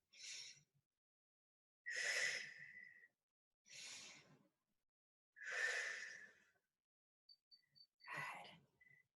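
Slow, audible breaths drawn in and let out during a seated head, neck and shoulder flexibility exercise, several long sigh-like exhales spaced a couple of seconds apart, close and alone with no talking.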